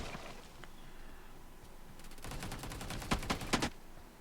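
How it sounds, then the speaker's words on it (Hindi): Gunfire in the BGMI or Free Fire mobile game, played with a TEQNEQ S-6 trigger: faint at first, then a quick run of sharp bursts near the end. "देखा बीच बीच में ये गोलियां"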